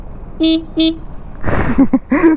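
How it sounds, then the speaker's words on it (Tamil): Two short, nasal horn beeps from a Honda CBR 1000RR superbike sound close by, followed by a rough engine rev and a few more quick honks. "சூப்பர் பைக்கில் ஹாரன் எப்படி இருக்குன்னு கேட்குறீங்களா?"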